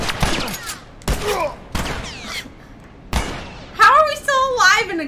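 Close-range gunshots in The Last of Us, four heavy blasts spaced about a second apart, each with a ringing tail, followed by a person speaking.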